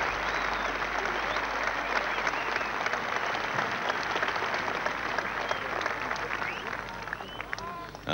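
A large golf gallery applauds steadily at an 18-hole playoff of the 104th Open Championship, sustained dense clapping from a big outdoor crowd with faint voices underneath.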